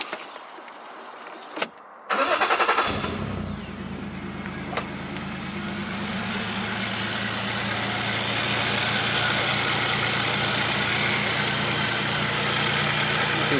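A Nissan 240SX S13 with a swapped 1JZ engine cranks and catches after a couple of brief bursts, then settles into a steady, loud, close idle that slowly builds in intensity.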